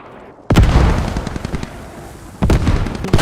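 Gunfire in the video game Squad opens after a short quiet moment with a loud burst of close shots that fades, then a second sharp volley follows near the end.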